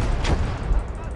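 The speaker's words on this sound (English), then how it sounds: "Mortar." Mortar fire in the World War II strategy game Close Combat: a single dull distant boom with a brief burst under a low rumbling battle bed, lasting about a second.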